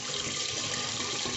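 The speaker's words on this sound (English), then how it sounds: "Hot, just the hottest that you can get out of the tap." Hot water runs steadily from a kitchen tap in a continuous hissing stream, close and even throughout, with no voices.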